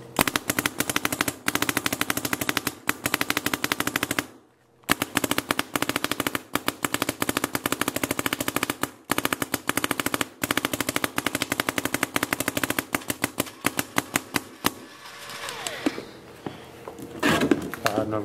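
A Dm11 paintball marker rapidly firing a full pod of paintballs, a loud, close, continuous stream of sharp pops with a brief pause partway through before the firing resumes and then trails off.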